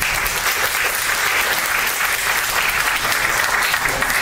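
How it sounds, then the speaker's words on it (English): An audience at a candidates forum gives the incumbent city council a steady, dense round of applause that holds at an even level throughout, with no speech over it. "So how about a big round of applause for our incumbent city council?"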